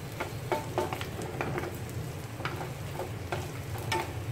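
Tofu sisig sizzling in a pan at a restaurant: a constant close frying hiss with scattered crackles and utensil taps in an uneven rhythm, no talking.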